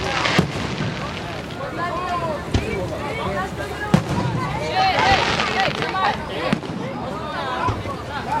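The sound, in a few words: fireworks exploding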